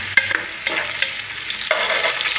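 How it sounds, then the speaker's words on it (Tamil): Sliced onions fry in hot oil in a pan for Kerala-style biryani, a close, steady sizzle broken by several sharp scrapes and clacks of stirring, with no voices. "இதே கொஞ்சம் எண்ணெய் ஊற்றிக்கலாம். வெங்காயம் போட்டுக்கலாம்."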